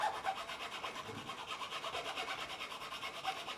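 A file rasps back and forth in the nut slot of an ESP Ltd EC-256 electric guitar, a steady, rhythmic scraping of even strokes heard up close with no speech.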